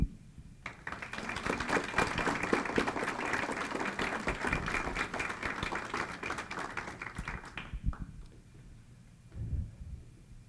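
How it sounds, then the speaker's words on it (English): Audience applause fills a room at a Goodwill achievement awards breakfast, a dense steady clapping that runs for about seven seconds before tapering off, followed by a brief quieter burst near the end. "give another round of applause for all of our recognized folks"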